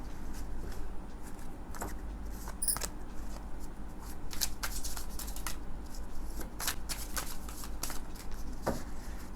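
Tarot cards are shuffled in a reading, with repeated quick riffling and rubbing bursts against a low steady background hum, close and moderately loud, with no talking.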